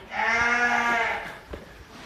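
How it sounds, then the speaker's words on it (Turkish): Lambs bleat close by in a barn, one drawn-out harmonic cry followed by a shorter, fainter call, with no talking. "Evde kalan kuzularımız bunlar."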